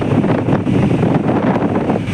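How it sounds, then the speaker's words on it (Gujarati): Strong stormy wind buffets the microphone in steady, rumbling gusts, loud and close, with no voices over it. "પવન એકદમ ફૂંકાય છે."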